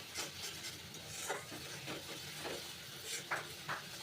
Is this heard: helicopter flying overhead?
no